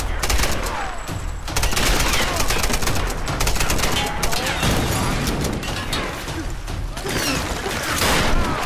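Incendiary rounds from a gun in the Tomb Raider video game fire in rapid, dense volleys, loud and continuous for several seconds with crackling bursts and impacts layered throughout.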